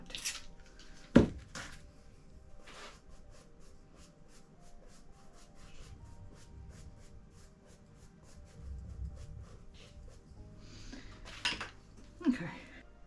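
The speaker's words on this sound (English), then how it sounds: "I think now I'm going to start applying my palette knife." A palette knife drags and scrapes paint across a textured canvas for an abstract cityscape, giving faint, intermittent rubbing strokes with a few sharper clicks near the start and end, and no talking.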